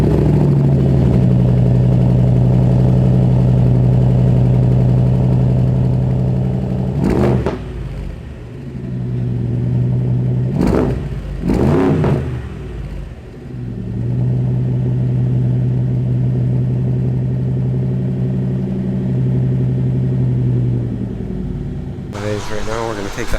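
A BMW X6 idles after a cold start, a steady low engine drone running almost the whole time, broken by a few brief louder bursts and dips.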